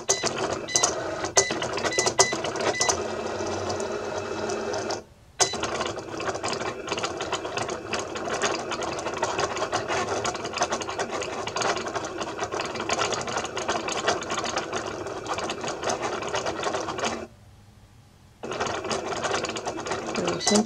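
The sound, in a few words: Cricut cutting machine cutting faux leather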